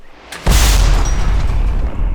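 An M109L self-propelled howitzer fires a single shot, a sudden loud boom that breaks the quiet and rolls on as a long, heavy rumble.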